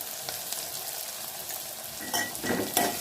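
Onions, green chilies and turmeric frying in a pan, a soft steady sizzle close by, with a few louder scraping stirs and clinks toward the end.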